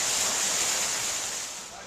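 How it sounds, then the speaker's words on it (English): Water-powered turbine at a gristmill producing 26 horsepower to drive the millstone, heard as a steady loud rushing hiss of water and machinery that fades slightly toward the end. "This is a turbine that rotates"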